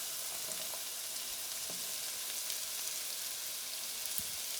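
Celery and carrots frying with onions in a pan for a white bean, kale and sausage stew give a steady, dense sizzle throughout, with occasional faint clicks of stirring.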